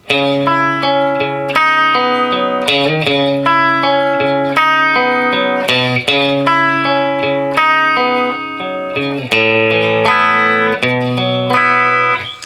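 An electric guitar strums sustained chords through a distorted, effects-heavy tone, changing chords every second or so in a steady rhythm.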